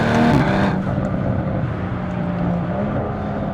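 A stage 2 tuned BMW M440i with a single twin-scroll turbo accelerates hard. A loud, sustained engine drone holds a steady tone from inside the car, swelling briefly at the start, with no speech.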